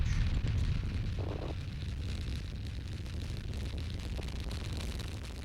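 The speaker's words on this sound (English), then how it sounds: "3 main engines up and burning. 2, 1. And liftoff of Space Shuttle Columbia" The main engines of Space Shuttle Columbia roar at liftoff on the STS-80 launch, a deep, continuous distant rumble with a broad crackling roar, steady and loud throughout without voices.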